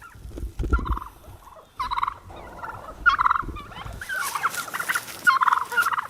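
Turkeys gobble repeatedly, rapid warbling calls in several bursts, some overlapping, fairly close and loud.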